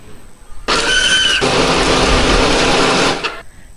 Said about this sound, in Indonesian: Hari ini aku menghaluskannya pakai blender.